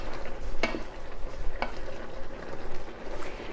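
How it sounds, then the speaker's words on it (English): A spoon stirs a steak, mushroom and gorgonzola rigatoni sauce in a pan, giving a soft continuous sizzle with a couple of faint clinks of utensil against the pan. "so now we're going to stir this around"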